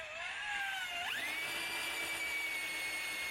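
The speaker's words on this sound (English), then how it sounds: "This is a 1/2-inch variable speed drill." A 1/2-inch variable speed drill turning a homemade car jack to lift a car, a steady whining motor whose pitch climbs sharply and then holds high and constant, close and without talk.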